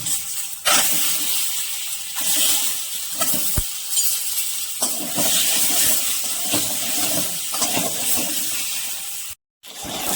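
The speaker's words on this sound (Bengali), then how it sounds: "ডিমগুলোকে ভেজে নেব।" Duck eggs frying in hot oil, a continuous hissing sizzle with brief dips and a short silent gap near the end, no voices.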